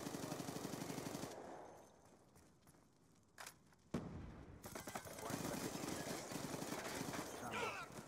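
Gunfire in Black Ops 2, loud rapid automatic bursts at start and end with a quieter gap holding a few isolated shots, set in a strategic point match with game announcer voice and player talk.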